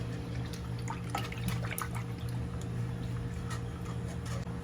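Creme de leite is poured into a cake mold for an ice-cream volcano cake, heard as a soft, steady pouring trickle with small clicks and taps over a low background hum and no talk.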